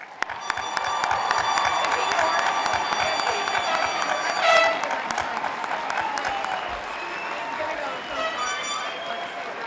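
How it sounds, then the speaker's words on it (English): Applause and cheering from a large crowd at a 2019 college commencement ceremony for graduates in Klamath Falls, steady clapping with scattered shouts and a brief swell midway, murmuring voices mixed in. "let's give a round of applause for all of our graduates"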